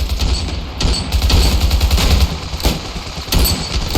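Rapid bursts of gunfire in the video game Ravenfield's World War I trench warfare crackle nonstop, with dense overlapping shots and a few sharper cracks standing out over a low rumbling backdrop.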